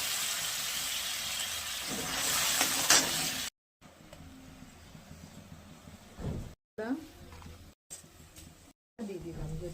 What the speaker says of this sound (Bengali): লঙ্কা একটু কালো জিরে ফোড়ন দিলাম,